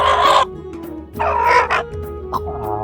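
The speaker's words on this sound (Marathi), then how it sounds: "कोंबड्या" Chickens cluck in short, loud bursts close by, a few excited calls separated by brief pauses.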